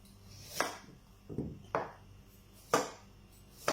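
A knife chops ginger on a cutting board while Bicol Express is being made, giving five separate, crisp knocks at an uneven pace, quiet and close.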